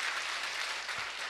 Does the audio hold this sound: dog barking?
no